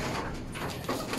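Pigeons cooing nearby, soft low throaty murmurs over a faint hiss with no talk.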